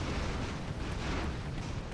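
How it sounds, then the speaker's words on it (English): Explosions in the airship battle game Airships: Conquer the Skies come as a steady, dense rumble of booming blasts that fills the whole moment at moderate loudness. "And some explosions on the left."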